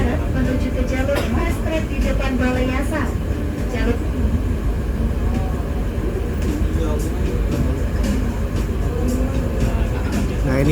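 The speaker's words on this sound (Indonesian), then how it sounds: "Saat ini kereta sedang bergerak ke arah barat menuju ke jalur fast track di depan Balai Yasa." Train moving west toward the fast track in front of the Balai Yasa railway workshop, a steady loud rumble and rolling clatter lasting throughout, with a person talking over it.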